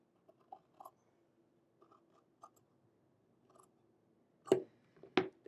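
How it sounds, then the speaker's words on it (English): Scissors snipping the edges of quilt-block fabric: a few soft, scattered cuts, then two louder sharp snips near the end, close and quiet with no talk. "I'll use this scrap for a later block and cut down these edges"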